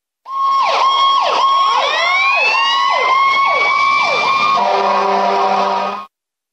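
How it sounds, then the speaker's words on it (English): Fire engine siren wailing loud and close in fast repeated sweeping whoops, switching near the end to a steady blaring horn tone before stopping sharply. "Fire engine."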